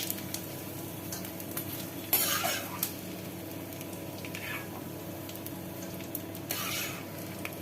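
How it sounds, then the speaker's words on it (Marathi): Edible gum (dink) roasts in a pan for moong dal laddoos, giving a steady low sizzle with a couple of sharp spatula scrapes against the metal. No one speaks. "डिंका हा चांगला भाजून घ्यायचा"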